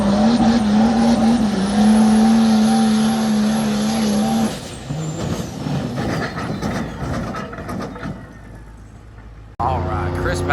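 Loud Mega Cab diesel truck with a Savage Fab turbo and race-compound setup pulling a sled at a street sled pull; a steady high engine drone and turbo whine for four seconds, then rough roaring rumble, a brief dropout and a late burst.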